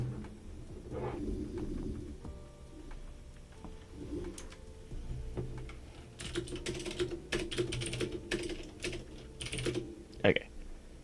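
Clicky typing on a computer keyboard whose battery is running low, quick irregular keystrokes in bursts over a low background hum, with some faint bird cooing in the background.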